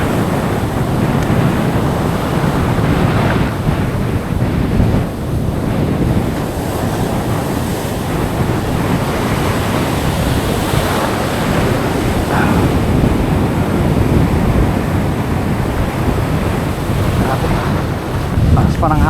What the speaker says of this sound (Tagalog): Hirap magipaglaban sa mga alon mga master.